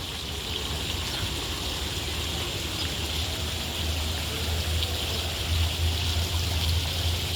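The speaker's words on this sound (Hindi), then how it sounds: "मेरे पीछे प्रकृति के झरने" A waterfall at Batu Caves, Malaysia, roars steadily without a break, a dense wash of falling-water noise with a low rumble, and no voices.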